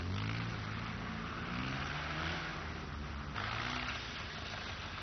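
Off-road vehicle racing past in a 1985 AWDC safari race at Charlton Park, its engine note droning and shifting in pitch as it speeds by, loud and fairly close, with no talk.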